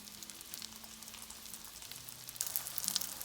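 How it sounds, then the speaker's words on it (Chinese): Egg-coated tofu slices pan-fry over low heat, giving a fine, steady crackling sizzle that grows denser and louder toward the end, with scattered sharp pops. "小火煎至豆腐两面金黄，"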